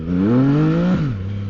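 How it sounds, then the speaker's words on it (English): A motorcycle at full throttle on a slippery uphill road in heavy rain gives a loud, close engine roar whose pitch climbs steadily, then drops suddenly as the revs fall. "Will the bike slip on full throttle?"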